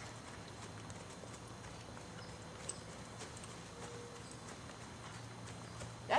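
A horse trots around an arena, its hoofbeats soft and rhythmic, faint beneath a steady background hiss.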